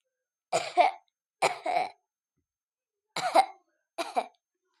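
Four short coughs from a Toca Boca video game character during a doctor's examination, in two pairs, close and clear, with silence between them.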